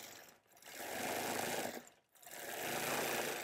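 A sewing machine stitches a quilt in a steady, fast mechanical whir, pausing briefly twice before running on at an even pace, close and alone.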